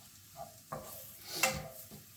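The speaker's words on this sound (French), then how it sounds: "Donc là, on les fait revenir au démarrage." Onions fry in a pan for onion soup, soft sizzling with a few stirring scrapes and light clinks of a utensil against the pan, close and fairly quiet.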